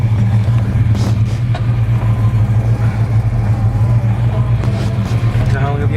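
A 1967 Chevrolet Chevelle SS with a 454 V8 and four-speed manual drives along with a deep, steady engine rumble heard from inside the car, loud and continuous throughout.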